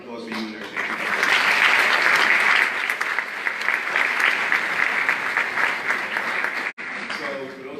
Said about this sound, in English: So I just want to give a round of applause for you and everything.